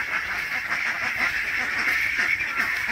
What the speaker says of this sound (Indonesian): Itik juga ini punya ciri khas merespon, bereaksi terhadap pengunjung.